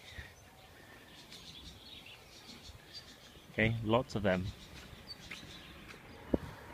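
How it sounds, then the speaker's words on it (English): Faint birds chirp and sing in the background over low outdoor ambience beside a university in Ningbo, China, while a voice briefly speaks close by. "you can hear the birds singing"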